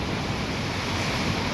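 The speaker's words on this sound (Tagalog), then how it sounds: "Grabe yung hangin" Strong wind roaring steadily outside during a thunderstorm, a dense, unbroken rush of noise buffeting the microphone, loud and close.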